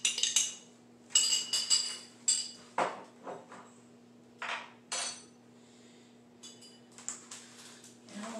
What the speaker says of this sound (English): Stir until clear.